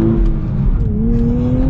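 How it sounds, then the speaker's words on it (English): A 2023 Nissan Z with a manual gearbox pulls away from a stop. The engine hum sits loud and close inside the cabin, and its pitch climbs gently as the car sets off, with no talking. "Okay, so we are now setting off in the Z."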